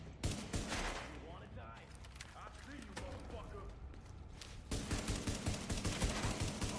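Gunfire from The Division, set in Brooklyn: repeated bursts of shots with a louder volley near the end, under a voice talking.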